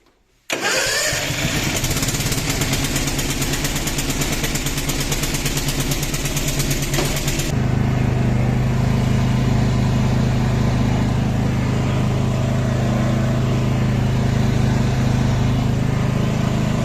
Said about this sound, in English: we managed to get this mini tractor working